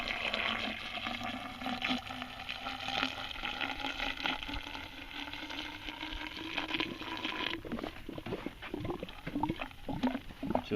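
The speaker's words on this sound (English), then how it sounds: "So I'm just gonna add a little bit of antifreeze down that pipe." Antifreeze glugs and trickles down an inground pool return pipe during winterizing, a steady close gurgling pour that turns to a choppier bubbling toward the end.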